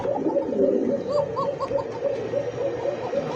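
A white Arabian cocker pigeon coos repeatedly in a rolling, throaty rhythm, close and clear, with other pigeons murmuring steadily in the background.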